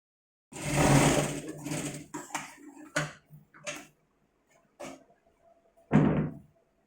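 A sewing machine stitches blouse fabric for a deep-neck princess-cut blouse in short, loud motor bursts: one longer run at the start, then several brief stitching spurts separated by quiet pauses.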